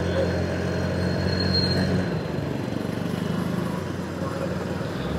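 A 125cc scooter accelerating under throttle in heavy traffic, its engine drone rising steadily and loud, with a rumbling, broadband roar of surrounding road noise.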